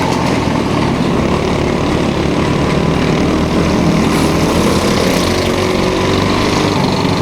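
Racing go-karts roar at full throttle during a 45-lap Independence class race at Galletta's Greenhouse Kartway, a loud, continuous buzzing engine drone that holds steady without pause.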